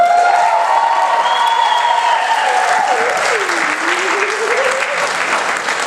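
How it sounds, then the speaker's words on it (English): A theater audience claps in sustained, dense applause that fills the room, with a few whoops and a wavering voice rising above the clapping throughout. "give us a little applause."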